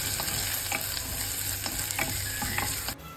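Chopped onions sauté with green chili and salt in a pan, sizzling steadily up close with repeated stirring scrapes and clinks that stop abruptly near the end.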